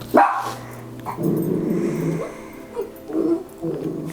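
A dog barks and growls close by, a few short yips and grumbling sounds scattered over a few seconds, with no talking.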